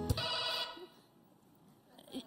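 A telephone bell rings in a French comedy stage sketch, one loud buzzing ring burst near the start that then fades out, leaving quiet room tone.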